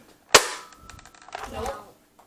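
A toy dart gun's trigger gives one sharp, loud snap near the start, followed by quieter handling rattles and clicks as the plastic gun is worked close by.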